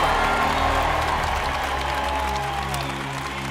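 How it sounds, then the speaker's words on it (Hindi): A large crowd applauds steadily and loudly throughout, a dense wash of clapping with a faint murmur beneath it. "ये बदलाव की तालियां हैं"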